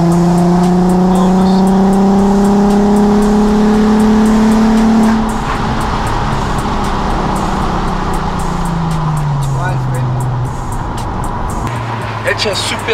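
A modified VW Golf 5 R32 with a naturally aspirated six-cylinder engine, driven in Martinique, roars loudly and close, its droning engine note sliding down in pitch as it eases off.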